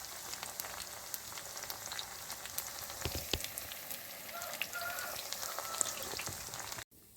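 Chicken pakoda frying in hot oil, giving a steady close crackling sizzle with scattered pops and bubbling throughout, cutting off sharply near the end.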